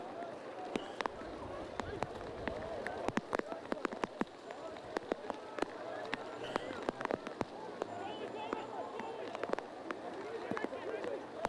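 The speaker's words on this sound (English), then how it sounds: "Rain steadily falling." Rain falling steadily on a football ground during a reserves grand final, a constant hiss broken by sharp thuds and crowd noise, with commentary talk over the top.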